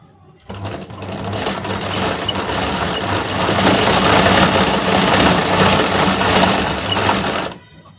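A sewing machine doing picot stitching on dress hems whirs into a fast, steady mechanical hum close by, running without pause for about seven seconds before stopping abruptly.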